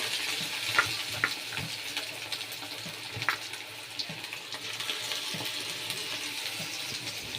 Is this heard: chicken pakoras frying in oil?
yes